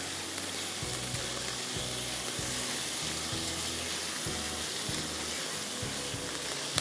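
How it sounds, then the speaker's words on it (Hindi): Chicken cubes stir-fry with ginger and garlic in a hot pan, a constant sizzle broken by regular, rhythmic knocks and scrapes of stirring. "अदरक लहसुन के साथ आप इसको स्टीयर फ्राई करेंगे 5 मिनट"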